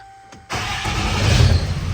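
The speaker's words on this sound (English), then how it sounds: "now this starts my truck" A pickup truck engine cranks and fires up via a remote starter, a short starter whir then a steady, loud idle rumble that rises slightly and holds.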